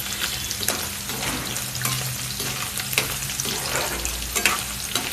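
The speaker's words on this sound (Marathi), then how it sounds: "पनीर ब्राऊन होईपर्यंत फ्राय करायचं आहे" Paneer frying hard over a high gas flame, a steady close sizzle broken by frequent scraping stirs and clicks, with no voices.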